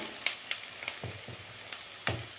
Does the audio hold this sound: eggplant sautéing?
yes